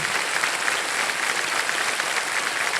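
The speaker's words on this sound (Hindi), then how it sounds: "तालियां बज जाए इनके लिए" Dense, sustained applause from a studio audience on a televised quiz show, a broad wash of many hands clapping at once, loud and unbroken throughout with no talk.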